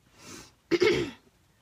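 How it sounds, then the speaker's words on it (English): A soft breathy exhale is followed by a harsh cough-like throat clearing, close and fairly loud, with silence after. "Sorry for the coughing. My sinuses are still messed up."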